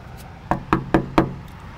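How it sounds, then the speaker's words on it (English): Knuckles rap four times on a door late at night, sharp, evenly spaced knocks close by, alone with no talk. "Let me knock on the door."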